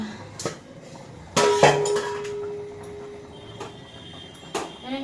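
Metal utensils clink and scrape against a large kadai while cooking in a home kitchen: a few sharp, scattered knocks, one louder clatter with a brief ringing tone, over quiet background.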